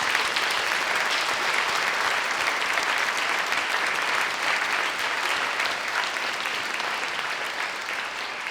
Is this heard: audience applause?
yes